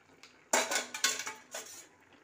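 A spoon scrapes and knocks against a cooking pot as garam masala is stirred in, giving a few quick metallic clinks and scrapes in short bursts, close up, with no voices.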